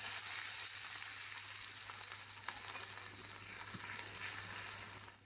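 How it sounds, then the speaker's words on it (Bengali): Dried chillies, green chillies, onion and garlic sizzle steadily in hot oil in a pan over an earthen clay stove, a continuous close, even frying hiss with a faint low hum underneath. "তেল গরম হয়ে এলে দিয়ে দিব কিছু শুকনা মরিচ সেই সাথে দিব কেটে রাখা কাঁচা মরিচ এবং পেঁয়াজ রসুন"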